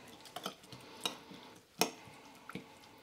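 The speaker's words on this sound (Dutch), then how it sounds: "En dan roeren we het nog een keertje door." A spoon stirring a chicken marinade of sugar and finely chopped spring onions in a bowl, several distinct clinks and scrapes spaced irregularly over quiet background, close and fairly light.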